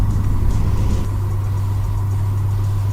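A C4 Corvette with a manual six-speed rolls along on the road, its engine producing a steady low drone with a strong bass hum inside the cabin and no talk over it.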